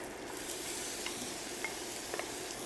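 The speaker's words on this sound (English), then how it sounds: "Saute the onion and the garlic until they become a nice golden color and are very softened." Onion and garlic soften in melted unsalted butter in a sauté pan over medium heat, a soft, steady sizzle with a few faint clicks of a utensil, fairly quiet and even throughout.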